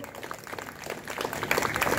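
Audience applause at a prize-giving during a live boogie-woogie dance contest, dense clapping from a crowd that grows steadily louder over a couple of seconds.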